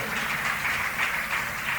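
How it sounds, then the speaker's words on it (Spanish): A church congregation at a Spanish-language service claps together in a dense, even patter, with a steady and fairly soft sound and no voices over it. "Denle un aplauso al Señor Jesucristo, hermano"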